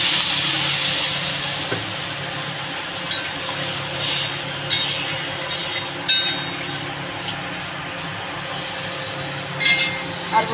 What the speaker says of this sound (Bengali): আমি এবার পরিমাণ মতো জল দিয়ে দেবো